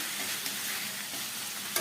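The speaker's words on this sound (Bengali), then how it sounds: "এখন জলটা শুকিয়ে ভাজা ভাজা হয়ে গেছে।" Radish greens stir-fried in a pan after their water has cooked off, a steady dry sizzle with soft scraping stirs throughout and a sharper clatter near the end, no voices.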